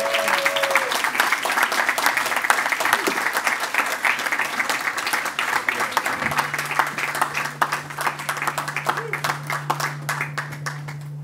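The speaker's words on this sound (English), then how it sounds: "Please give a big round of applause to Jenny Berger." Big round of applause from an audience at a legislative breakfast, steady loud clapping throughout, with a low hum entering partway through.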